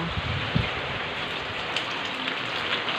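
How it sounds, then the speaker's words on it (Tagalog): Heavy rain from Typhoon Kristine pours down steadily in a dense, continuous hiss, with a few louder drops spattering close by. "Lakas ng ulan."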